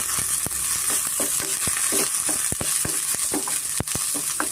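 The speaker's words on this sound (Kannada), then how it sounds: "ಇದನ್ನು ಸ್ವಲ್ಪ ನಾವು ಎಣ್ಣೆಯಲ್ಲಿ ಚೆನ್ನಾಗಿ ಫ್ರೈ ಮಾಡ್ಕೋಬೇಕಾಗುತ್ತೆ" Coriander and mint frying in hot oil, a steady bright sizzle running throughout with sharp clicks and scrapes of a spoon stirring the pan, close and fairly loud with no talking.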